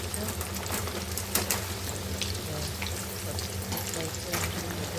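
Fenugreek mathri deep-frying in oil on medium heat, a continuous close crackling sizzle with occasional sharper pops, heard alone at a steady level throughout.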